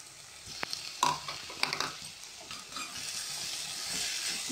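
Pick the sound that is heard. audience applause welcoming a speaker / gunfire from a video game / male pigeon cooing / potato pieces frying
potato pieces frying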